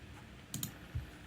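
A keyboard shortcut is pressed on a computer keyboard: two or three quick, close key clicks followed by a dull thump, all quiet against a faint room hum.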